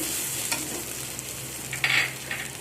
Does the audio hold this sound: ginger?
yes